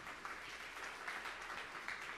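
An Indonesian church congregation claps in a steady, fairly faint wash of applause with soft scattered accents, heard alone with no talk over it.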